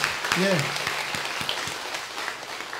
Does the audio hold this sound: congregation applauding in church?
yes